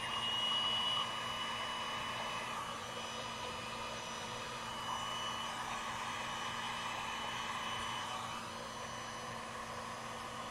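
A hair dryer blows steadily on its high setting over alcohol ink on a textured art panel, a loud continuous whooshing roar with a constant motor hum, unbroken for the whole stretch.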